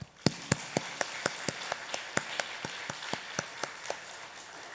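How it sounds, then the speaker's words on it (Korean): A church congregation claps along in a steady rhythm of sharp, evenly spaced claps, about three a second, moderately distant and fairly quiet in a reverberant hall. "우리 축복의 박수 해드립니다."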